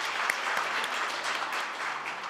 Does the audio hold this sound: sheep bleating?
no